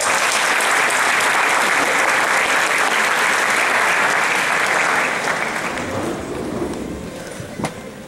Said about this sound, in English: So let's give him a big round of applause and have him come out.